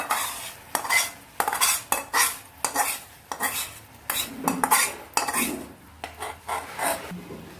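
A spoon stirs milk kheer with added caramel in a pot, making a run of scraping clinks against the metal in an uneven rhythm, up close with no talking.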